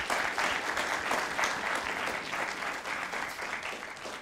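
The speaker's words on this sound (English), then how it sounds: "just give them a round of applause for putting this together" An audience at a university talk on genome editing applauds steadily for about four seconds, a full, even wash of clapping with no voices over it.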